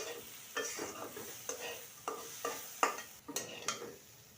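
Rice sizzles in oil in a pan as pulao is prepared, with a steady frying hiss broken by about eight distinct scraping stirs of a spoon through the grains, close and moderately loud.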